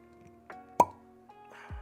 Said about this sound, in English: And the cork pop.